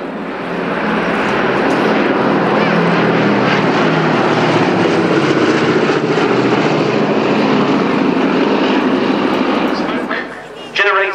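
Low broadband roar of a B-17 bomber's piston engines as it flies past at an airshow, steady and loud throughout with a brief dip near the end; smoke is trailing from two of its engines.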